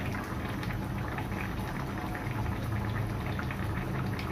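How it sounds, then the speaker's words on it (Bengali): A pot of potato curry simmers steadily, with a soft continuous bubbling and popping that stays even and fairly quiet throughout, no voices heard. "আলু সিদ্ধ হয়ে আসছে"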